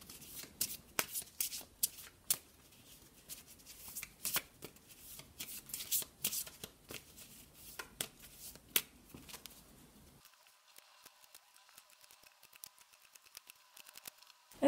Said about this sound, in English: I'm just going to give the cards a quick shuffle.